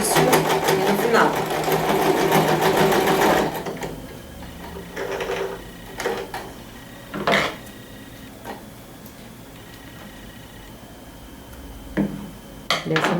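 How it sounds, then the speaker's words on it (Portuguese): A domestic sewing machine stitching a small zippered pouch, running in a fast, loud mechanical burst for about three seconds, then short bursts of stitching and backstitching between pauses, near and clear. "Costuro e finalizo também com retrocesso apenas meio centímetro."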